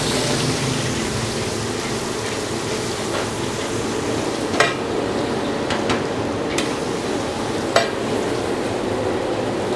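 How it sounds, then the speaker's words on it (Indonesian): Garlic hitting hot oil gives a steady, close sizzle and crackle, with a few sharp utensil clicks against the pan as it cooks. "Minyak udah panas. Bawang putih kita masukin duluan."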